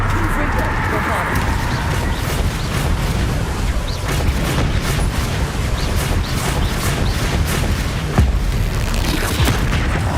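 The Bombarda spell bursts in Hogwarts Legacy with repeated deep booms and blasts amid ongoing combat noise, while a voice calls out over the fighting.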